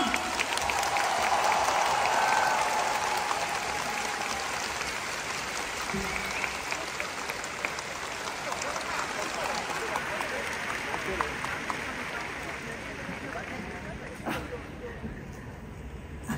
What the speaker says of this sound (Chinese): 大家一个热烈掌声，欢迎南部昌江女士